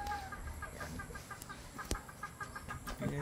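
A Kelso rooster clucks in short repeated bursts at moderate distance, with soft farmyard background and no talking.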